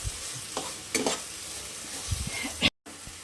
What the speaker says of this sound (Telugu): అండ్ సోయా సాస్ వేసుకుంటున్నా. అండ్ అంతా బాగా మిక్స్ చేసుకోవాలి.